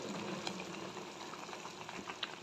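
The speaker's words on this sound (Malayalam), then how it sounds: "ഇത് നല്ലോണം തിളച്ചാൽ മതി" Pappadam curry bubbling in a pot, a faint continuous simmer with scattered small pops, close and steady.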